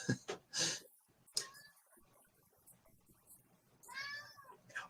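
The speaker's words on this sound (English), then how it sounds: "And there's the cat." A house cat meows a few times, short close calls at the start and a longer one near the end, with people talking quietly in an indoor room.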